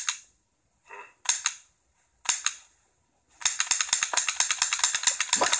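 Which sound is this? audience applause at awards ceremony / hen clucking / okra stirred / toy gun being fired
toy gun being fired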